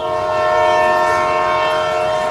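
A train horn blares loud and steady close by, layered with the rumble and clatter of rail cars rolling into a station.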